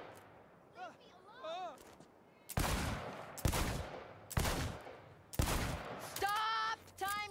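Gunfire at a timed shooting range in Cyberpunk 2077, with five loud sharp shots spaced about a second apart, their echoes trailing off, and voices speaking in between.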